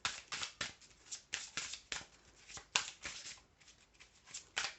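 Cards being handled and drawn from a deck during a French weekly card reading: a quick series of crisp shuffling riffles and slides, close and fairly soft, with no talking.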